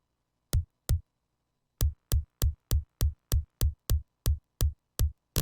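Punchy electronic kick drum sample from Ether triggered in music production software, two isolated hits followed by a steady run of about a dozen evenly spaced thumps, dry and up close.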